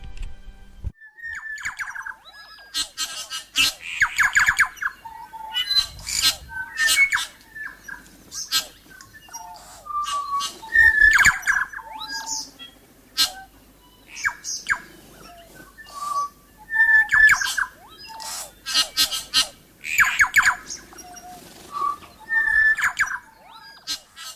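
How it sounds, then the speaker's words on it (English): Bellbird (korimako) calls in a native New Zealand forest in the Dunedin town belt: clear, ringing, bell-like notes and chirps repeated in short bursts throughout, close and fairly loud, with no talking. "I will leave you with the sounds of Corimako or bellbird"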